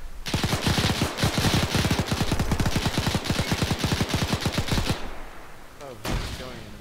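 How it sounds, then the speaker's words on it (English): Sustained automatic gunfire in ArmA 3, a long rapid burst of loud, close shots lasting several seconds, then a pause and one more short sharp report, with faint voices in the background. "He's firing."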